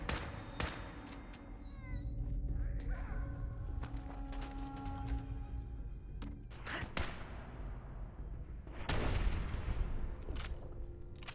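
Semi-automatic gunfire in the video game Fallout 4, survival mode, with weapons firing .45 ammo: a scattered string of sharp, loud shots over about eleven seconds, separated by uneven gaps, with a denser burst near the end.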